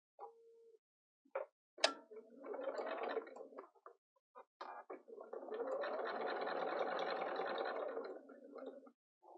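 A sewing machine stitches down the bottom seam of a fabric market bag: a few short stuttering bursts, then one steady close run of about four seconds before it stops.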